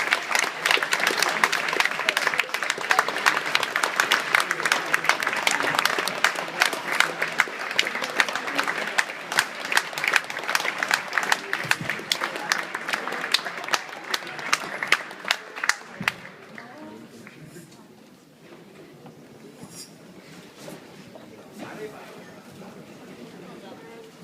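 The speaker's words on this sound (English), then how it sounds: "stand up and clap your hands for the EMBA class of 2011" An audience at the Cambridge Executive MBA class of 2011 closing ceremony rises to give the graduating class a sustained round of applause. The dense clapping stays loud and steady for about sixteen seconds, then drops away, leaving scattered claps and faint room murmur.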